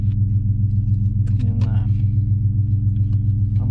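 A Dodge Challenger R/T 392 Scat Pack gives off a deep, steady engine rumble that holds close and constant for the whole stretch, with a brief voice-like sound partway through.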